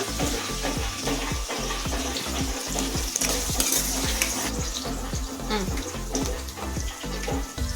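Green chillies frying in oil for lemon rice, a loud, dense sizzle with rhythmic scraping stirs of a spoon against the pan throughout, steady and close.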